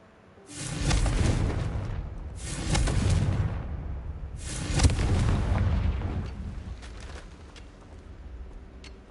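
Confringo fire spell blasts in Hogwarts Legacy, three heavy booming explosions in quick succession with rumbling tails, followed by a fainter fourth burst and fading debris, no talk over them.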